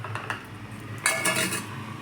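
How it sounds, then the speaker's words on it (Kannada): Sesame mixture with ground sesame being stirred in a pan for sesame sweet balls, a few light utensil scrapes and clinks against the metal, close and fairly quiet, with no voices. "ತಿರುಗಿಸ್ಕೊತಾ ಇದ್ದೀನಿ."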